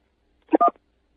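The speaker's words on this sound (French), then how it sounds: "Pour une meilleure écoute, appuyez sur la touche 1." A single touch-tone beep from pressing key 1 on a telephone keypad during a phone call, one short, clear burst standing alone in near silence.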